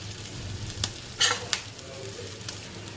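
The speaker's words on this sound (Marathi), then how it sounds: "ती करपू नये म्हणून ही मिरची आपण मध्ये हलवत राहायचं" Stuffed bell peppers frying in a pan, a steady close sizzle with a few scraping, clinking stirs and turns, no talking.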